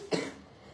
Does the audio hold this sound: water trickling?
no